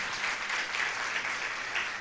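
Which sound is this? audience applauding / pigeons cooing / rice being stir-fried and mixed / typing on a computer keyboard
audience applauding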